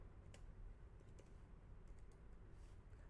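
Keys clicking on a computer keyboard as Python code is typed, in quiet, scattered bursts of light taps with short pauses between them and no talking.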